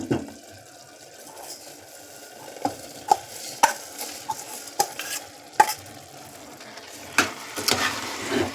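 Soaked rice being stirred into masala in a pot, a soft sizzle under a series of sharp spoon scrapes and knocks against the pot at irregular intervals, near and clear with no talk.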